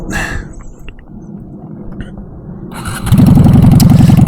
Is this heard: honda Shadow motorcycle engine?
yes